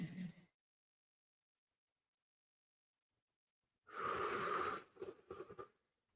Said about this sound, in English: let's finish with our 3 deep breaths